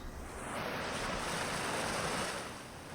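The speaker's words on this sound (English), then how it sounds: "I've spawned in the middle of fast water." Fast-flowing water rushing in a video game, a steady broadband roar of churning current that holds at an even, loud level throughout with no voices over it.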